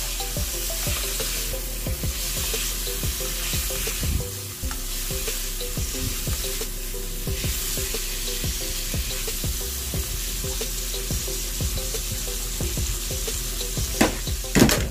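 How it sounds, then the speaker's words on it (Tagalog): Squid balls are stirred and sautéed in a pan for chop suey, with a steady sizzle and repeated scraping strokes of the utensil at a regular rhythm, close and alone. "Haluin lang din natin para maluto na rin din siya sa ating gisa."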